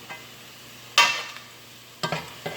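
Tomato sauce ingredients caramelize in a pan, heard as a few intermittent stirring scrapes over a faint, low background sizzle.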